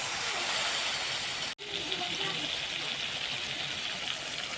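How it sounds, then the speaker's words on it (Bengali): Water poured into a hot spice mixture with bay leaf, turmeric and red chilli powder for egg curry sets off a loud, steady sizzling hiss that cuts out briefly and then continues, close up with no voices. "জল দিচ্ছি।"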